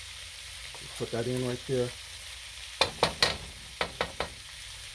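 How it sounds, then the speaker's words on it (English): Garlic frying in a pan for Spam fried rice, a steady sizzle punctuated by a few sharp scraping stirs near the end, with a brief spoken voice early on. "Now let's add this garlic in as well."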